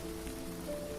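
Steady rain from the farming video game Grimshire patters continuously, a soft even hiss with no break and no voices.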